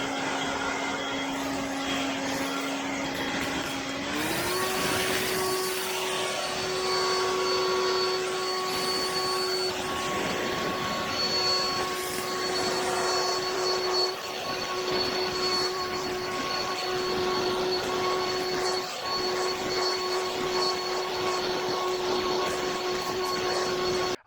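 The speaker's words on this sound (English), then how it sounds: "I'm going to go and blow some leaves now." A leaf blower runs steadily and loud throughout, blowing autumn leaves, its motor whine stepping up in pitch after a few seconds and holding there with a continuous rushing roar.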